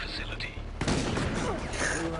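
Gunfire in the Resident Evil: Operation Raccoon City video game, a short burst of bright, noisy shots beginning partway through, loud against busy game sound, with voices talking underneath.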